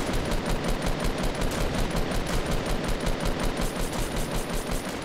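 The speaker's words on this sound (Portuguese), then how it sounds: "É o cara dando tiro, mano." Rapid automatic gunfire in the video game Fortnite rattles nonstop in a dense, even rhythm, loud and close, like sustained machine-gun bursts.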